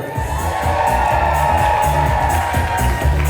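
A loud, dense crowd roaring and cheering continuously at a New Year's Eve celebration, with whoops and shouts over a steady wall of noise.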